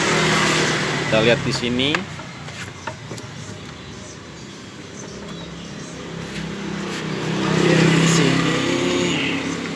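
A Honda Vario Techno 110 scooter with an ignition fault is started and revved: a brief whirring start, then an engine note that rises and swells later, with someone talking over it.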